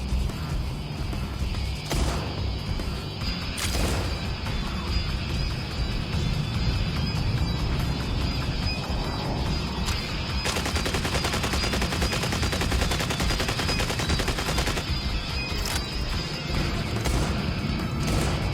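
Video game gunfire, likely a shotgun, goes off several times amid a continuous, loud mix of crashes and booms, with sharp bursts spaced irregularly over a dense background.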